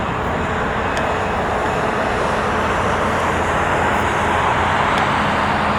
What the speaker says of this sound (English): Here she goes, speeding down the runway.